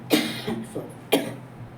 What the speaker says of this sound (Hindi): मेरी खांसी हो रही